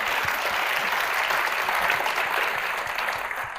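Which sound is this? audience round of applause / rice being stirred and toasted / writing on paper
audience round of applause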